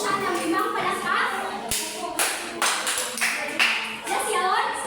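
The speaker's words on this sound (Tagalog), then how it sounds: "So, bigyan natin siya ng 5 palakpak." A classroom of people gives a round of clapping, a burst of claps in a few uneven rhythmic groups, near and fairly loud, with some voices mixed in.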